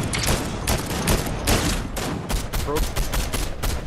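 Rapid gunfire in a Fortnite squad fight, a dense burst of shots continuing throughout, loud and close, with a brief spoken word partway through.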